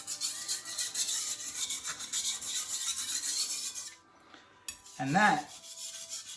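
A kitchen knife being sharpened by rubbing the blade against a sharpening surface, giving a steady rasping scrape for about four seconds, then a short pause and another louder stroke, with a brief spoken word near the end.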